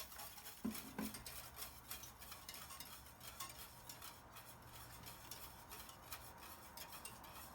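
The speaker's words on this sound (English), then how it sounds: "stir continuously. Every once in a while I'll stop and use the tip of the spatula to go around and clean the edges of the pot" A spatula stirring pastry cream in a pot over medium heat, soft continuous scraping and sloshing close up, quiet and steady with a couple of light knocks near the start.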